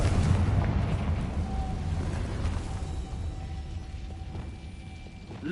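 A Confringo spell detonates in Hogwarts Legacy, a deep rumbling boom that decays slowly over several seconds with faint mechanical tails and a thin high tone, no talk over it.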